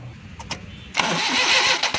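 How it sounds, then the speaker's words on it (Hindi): A Suzuki Bolan engine with a rotor coil-wire fault cranks in short bursts, then catches and settles into a loud, steady running note close by. "देखें दोस्तों, ये गाड़ी अब स्टार्ट हो गई है।"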